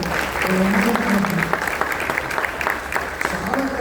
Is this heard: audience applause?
yes